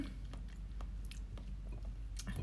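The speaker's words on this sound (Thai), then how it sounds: "กินกับไข่ต้มโคตรอร่อยเลย" Close, soft chewing as someone eats fermented fish chili paste with boiled egg, moist mouth sounds and light bites over a low room hum, with no talking.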